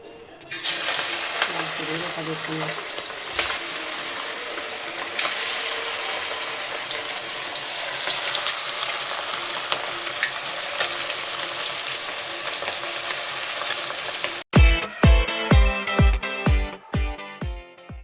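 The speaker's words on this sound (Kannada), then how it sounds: "ಈಗ ಎಣ್ಣೆ ಕಾದಿದೆ, ಕಬಾಬ್ ಬೇಯಿಸೋಣ ಬನ್ನಿ." Kebab pieces sizzle loudly and continuously in hot oil for most of the stretch, then a rapid series of sharp metallic clicks and clatters ends it, with no talk.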